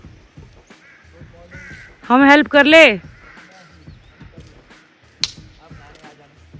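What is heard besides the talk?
crows cawing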